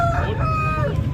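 A young Aseel rooster crows briefly at a crowded fowl market in Mydukur, its drawn-out call carrying over a constant low hum of market noise and chatter.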